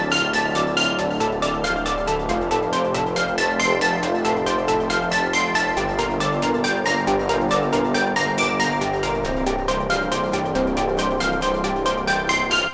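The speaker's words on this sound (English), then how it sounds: "but I thought this Hive ARP worked pretty well. So just laid down some chords using the bass line," A Hive synth arpeggiator plays chords in a Playboi Carti style beat, rapid evenly spaced plucked notes running steadily and loudly over a low bass line, with no voices.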